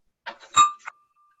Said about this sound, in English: President Tammy, please ring the bell.